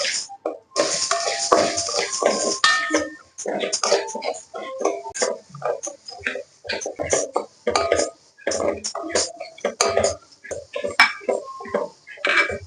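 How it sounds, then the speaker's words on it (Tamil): Moong dal dry-roasting in a pan gives off scattered light scraping and clinking as it is stirred, heard in short bursts under someone talking. "முதல்ல ஒரு வாணலியில 1 கப் பாசிப்பருப்பை நல்ல சிகப்பா வறுத்துக்கணும்."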